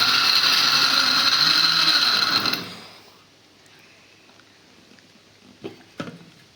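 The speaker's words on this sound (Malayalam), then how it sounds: "അപ്പോൾ തന്നെ നമുക്ക് ബീഫ് പൊടിച്ചെടുക്കാം." A kitchen mixer grinder whirs loudly as it grinds beef, running steadily for about two and a half seconds before cutting off, followed by quiet room sound and a couple of soft knocks.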